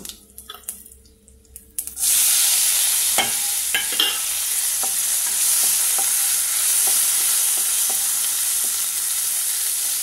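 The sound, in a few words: tempering spices with asafoetida sizzling in oil for dal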